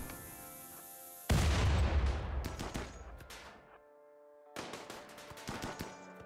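Gunfire in the game RimWorld crackles in sharp rapid bursts of shots, loud after a quiet opening, pausing briefly, then resuming in another clattering volley over a sustained musical drone.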